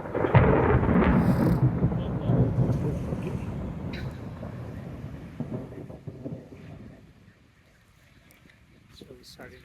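A long, heavy rumble of thunder rolls through a storm in Gozo, Malta, loud at first and slowly fading, with wind buffeting the microphone, light rain and people talking quietly underneath.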